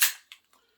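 Trigger reset on an RIA 1911 .45 ACP pistol, a single sharp close metallic click followed by two fainter clicks, then quiet.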